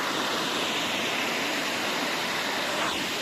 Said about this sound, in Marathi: पाणी वाहत आहे इकडे